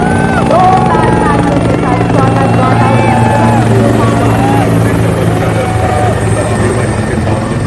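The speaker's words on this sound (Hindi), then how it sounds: "हेलीकॉप्टर पुष्प वर्षा करता हुआ करतल ध्वनि से स्वागत कीजिए। हेलीकॉप्टर और सलामी मंच के सामने से गुजर रहे हैं।" A helicopter showering flowers passes over the 73rd Republic Day parade in Lucknow, a loud continuous rotor drone throughout, with voices audible over it.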